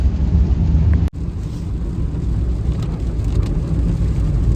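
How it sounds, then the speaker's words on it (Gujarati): Heavy rain drums on a car driving out of Ahmedabad through flooded roads, a steady close broadband roar with one brief dropout near the start. "બહુ વરસાદ ચાલુ છે હજી."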